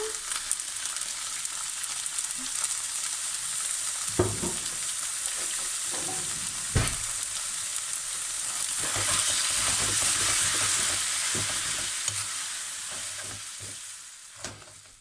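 Steady sizzling of noodles stir-frying with dark soy sauce in a hot pan, with occasional clanks and scrapes of a utensil stirring, continuous and fairly loud without talk.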